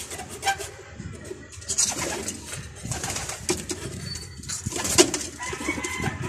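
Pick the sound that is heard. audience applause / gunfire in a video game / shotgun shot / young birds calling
young birds calling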